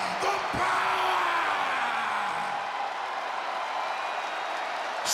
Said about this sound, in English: No one gets the crowd fired up like the New Day